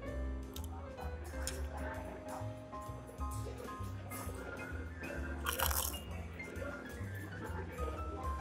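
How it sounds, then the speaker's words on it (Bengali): Crunchy fried potato chips dipped in tomato ketchup being eaten up close at a café, repeated crisp bites and chewing crunches over faint background chatter and music. "টমেটো কেচাপ দিয়ে আমি চিপস প্রথমবার খেলাম"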